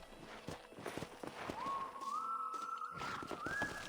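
Horse hooves clip-clopping in Red Dead Redemption, a steady close trot of hoofbeats under a rising whistle-like tone, faint and game-mixed.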